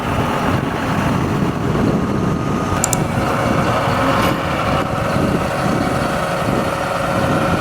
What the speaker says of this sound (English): Look who's gonna drive the tractor.